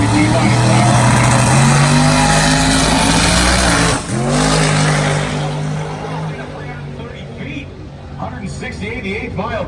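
A 1985 Chevrolet El Camino drag car launches at a drag race, its engine roaring loud and close through rising revs, with a shift break midway before the noise fades as it pulls away, while an announcer talks over it.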